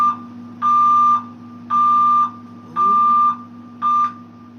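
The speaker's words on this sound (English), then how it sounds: "that was the alarm." A loud electronic alarm beeps in a steady rhythm, four long even tones and a shorter fifth about a second apart, over a constant low hum.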